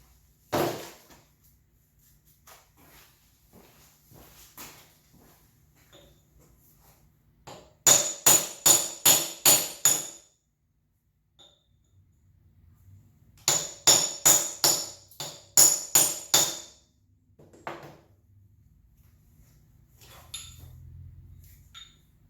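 A hammer drives an old wooden handle out of a sledgehammer head, heard as two close, loud bursts of about six sharp metallic blows each, separated by quiet pauses, with no talking.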